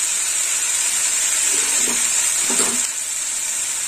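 Spices sauté with cashew paste for dahi baingan, a loud steady hiss and sizzle filling the pan, with brief stirring scrapes near the middle and no voices.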